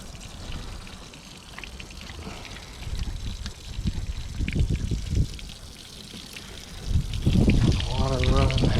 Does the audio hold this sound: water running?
yes